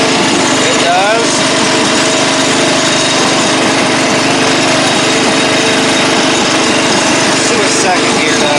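An old Craftsman riding mower engine runs loud and steady close by, a continuous buzzing drone with no pauses.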